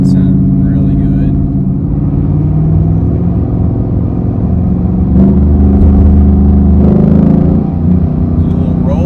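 A car with its exhaust cut-off opened accelerates hard, its loud, raspy engine note climbing and surging close by, with people talking over it.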